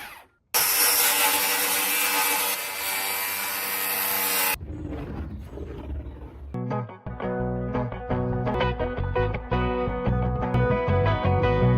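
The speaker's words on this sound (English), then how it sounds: "Bevel cutting a wooden board on the subfloor. Sawdust flies continuously along the cut line." A saw bevel-cutting a wooden board on a cabin subfloor, a loud continuous rasping cut for several seconds, then lighter rubbing and tapping of wood close by.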